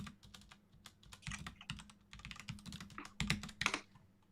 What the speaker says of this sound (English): How's that typing going?